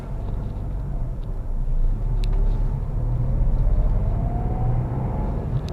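A Renault Kiger driving over road bumps and cracks gives a steady low road rumble and interior drone, with a few faint thumps from the suspension over the rough surface.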